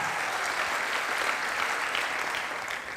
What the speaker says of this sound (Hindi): बिग हैंड जोरदार तालियों से।